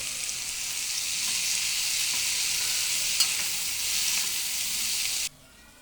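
Black-eyed peas fry with chilli powder and masala while being stirred, giving a steady close sizzle and hiss with light scraping that runs evenly, then cuts off abruptly near the end.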